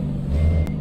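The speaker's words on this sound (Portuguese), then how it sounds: "vamos manobrar o caminhão dentro do pátio aqui mesmo" Truck reversing beeps in Euro Truck Simulator 2, heard briefly over a low engine rumble while the truck maneuvers in a yard.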